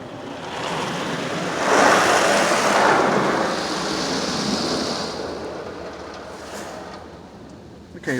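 Spot-free rinse water spraying steadily inside a Laserwash 360+ touchless car wash bay, a broad continuous hiss that swells for a few seconds near the start, then slowly eases off toward the end.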